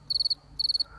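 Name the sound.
crickets and cicadas chirping at night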